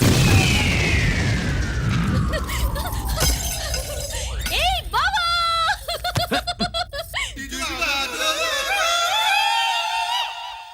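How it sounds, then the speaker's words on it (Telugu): In a Telugu comedy film scene, sweet dumplings explode like bombs: a falling whistle leads into a loud blast with shattering debris, followed by tumbling crashes and cartoonish sound effects, with voices chuckling. "పూర్ణాలు బాంబుల్లా ఫేలిపోయినాయి ఏంటి?"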